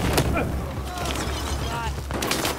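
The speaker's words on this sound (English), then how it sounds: "Okay, we got one for the grenade. Firing!" Grenade launch in Battlefield 4 gunplay: a loud steady wash of battle noise with sharp bursts near the start and again near the end, over a continuous low rumble.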